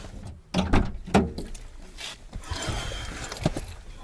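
A car door handled as someone climbs into the car in a forest: two sharp, close knocks in quick succession, followed by a steady rustling, shifting noise and no talk.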